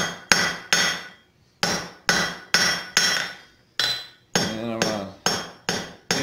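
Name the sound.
hammer forging copper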